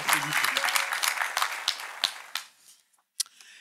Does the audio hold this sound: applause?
yes